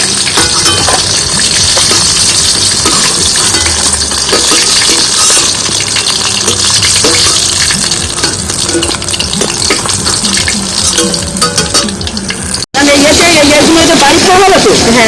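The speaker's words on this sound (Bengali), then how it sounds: "মাছগুলো ভাজা হয়ে গেছে, আমি একটা একটা করে তুলে নেবো।" Fish frying in hot oil in a pan while pieces are lifted out one by one, a steady dense sizzle and bubbling throughout, loud and continuous, with a brief cut near the end before the sizzle resumes.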